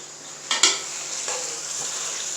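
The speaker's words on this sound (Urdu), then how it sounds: "اس کو ذرا تیز آنچ پہ آپ نے پکانا ہے، پیاز ہلکے سے گولڈن کرنے ہیں۔" Onions fry in ghee on high flame, a soft steady sizzle broken by a couple of sharp utensil clinks and scrapes as they are stirred.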